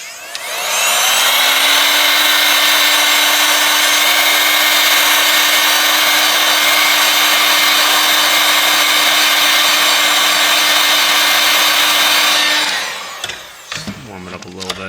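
Heat gun warming an AT&T Verge 2 5G phone during a teardown, a loud steady blowing whine with a constant hum running about twelve seconds, then switching off into faint handling noises.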